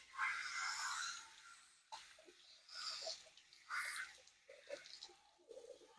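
Cool to lukewarm water runs and splashes over a human hair wig being rinsed from the top, a soft, uneven hiss and slosh that swells and fades in irregular waves, quiet and close with no voices.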